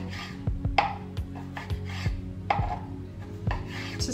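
A kitchen chef knife slices a lemon into thin slices on a cutting board, giving a series of soft, evenly spaced chopping taps, close and quiet.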